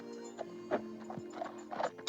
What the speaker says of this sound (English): the kind of scuttering sound of the horse's hooves just going through the grounds